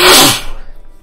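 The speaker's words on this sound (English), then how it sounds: "And I apologize if I sneeze here." One loud, close sneeze bursts out at the start and cuts off within half a second, followed by faint room tone.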